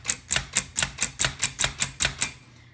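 Manual typewriter striking the letter A key repeatedly, about eleven crisp, evenly spaced clacks in quick rhythm, close and clear with no voices, the last strike fading out.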